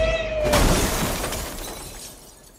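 A window pane shatters with a sharp crash, followed by glass fragments scattering and tinkling for a couple of seconds as someone breaks in, loud and close with no voices.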